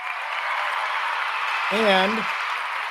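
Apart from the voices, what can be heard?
audience clapping for Michael Valdez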